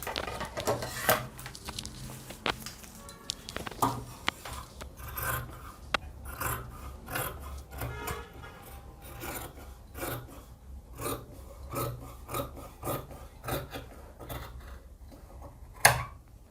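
Scissors cutting palazzo fabric along a marked line, a long series of crisp snips and rasping slides in an irregular rhythm, close and fairly quiet, with one sharper clack near the end.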